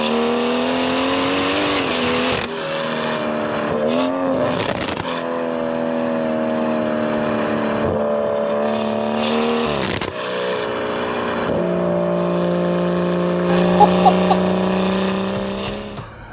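Tuned BMW M140i accelerating hard through several gears, each pull rising in pitch before a shift drops it back, loud and continuous from inside the cabin.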